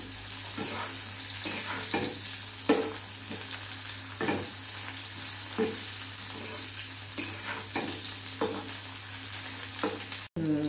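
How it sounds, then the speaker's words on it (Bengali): Cashews and raisins frying together in oil for veg fried rice, a continuous close sizzle broken by regular stirring scrapes, with no voice. "এর মধ্যে আমি কাজু কিশমিশ দিয়ে দিলাম, একসাথে ভেজে তুলে দেবো"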